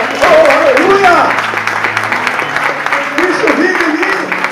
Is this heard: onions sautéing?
no